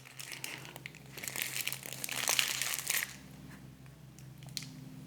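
Crinkling of a paper fast-food burger wrapper from Carl's Jr., close and fairly loud, rustling steadily for about three seconds before easing into faint handling noise.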